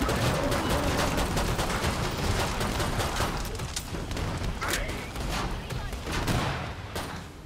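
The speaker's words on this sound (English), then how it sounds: "This dude's just randomly shooting at players." Dense gunfire from the video game Killing Floor 2, with rapid overlapping shots and booms forming a loud, continuous barrage across the whole stretch, with voices partly mixed in.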